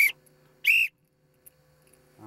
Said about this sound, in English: not a very loud whistle